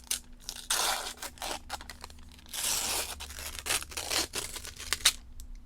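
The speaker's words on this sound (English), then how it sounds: "It's a nice waxy paper, so let's listen for that lovely sound." Waxy paper wrapper of a Star Wars Unlimited starter card deck being torn and peeled open, close and crisp, with repeated crinkling and ripping bursts and brief pauses, no voices.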